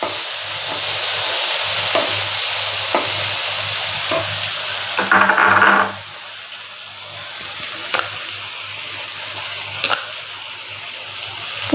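Ginger paste fries in a pan for a vegetarian taro-stem dish, a steady close sizzle broken by stirring scrapes and taps. A brief louder burst rises midway before the frying settles back, with no talking.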